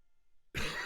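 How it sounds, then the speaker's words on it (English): One sudden, harsh cough directly into a close microphone after near silence, loud and breathy, with no speech. "Coughed into the mic."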